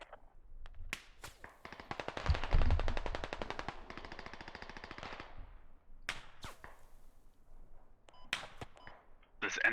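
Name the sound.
gunfire in the Squad video game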